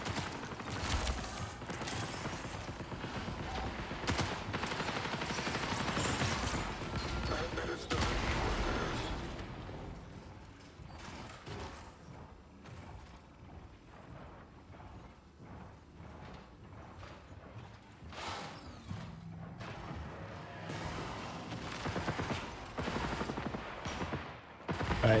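A team gunfight in the Marathon extraction shooter, heard from a distance: sustained bursts of rapid gunfire and mechanical clatter, louder at first, then thinning into scattered shots and rattles.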